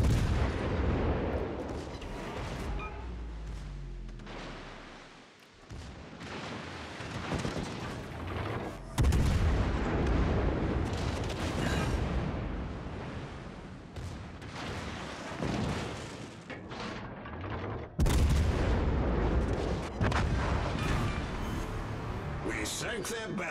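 Naval guns boom and shells explode in the warship game World of Warships Legends, with heavy low rumbles and two sharp blasts partway through under continual voice chatter and battle noise.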